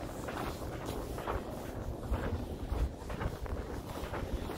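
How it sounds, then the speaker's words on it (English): Wind buffets the microphone outdoors in cold weather while walking, a low, gusty rumble that pulses unevenly and stays fairly faint, with no clear voices. "We're walking right into the wind."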